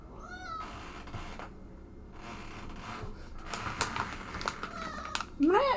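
A domestic cat meows indoors: one short meow at the start and a louder, rising meow at the end, with soft rustling and faint background sounds between.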